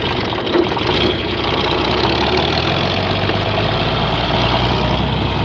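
A common farm tractor's engine idles close by, a steady low rumbling drone with an even knocking texture that holds without pause.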